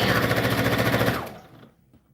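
A sewing machine back stitches satin ribbon for an anklet, a fast even mechanical chatter of needle strokes that runs loudly for about a second, then slows and stops.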